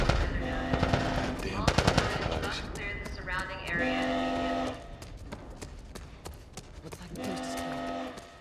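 Gunfire from The Last of Us Part 1 video game: bursts of rapid automatic fire and single shots, loud and close, mixed with shouting voices and game sound effects, dropping into quieter stretches before firing resumes.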